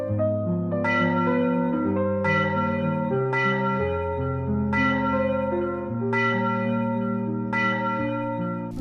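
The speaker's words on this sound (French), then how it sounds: "Les cloches de l'église résonnent dans tout Padoue, appelant à l'aide." Church bells in Padua ring an alarm during a great fire in 1950, a repeating pattern of rich overlapping tones struck roughly every second and a half, resonating continuously.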